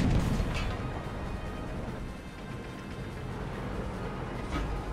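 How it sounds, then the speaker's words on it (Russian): A deep, sustained rumbling roar of a tank cannon shot in the World of Tanks video game, dense low boom and battle noise filling the whole stretch, loud and steady without talk. "Я должен сделать последний выстрел."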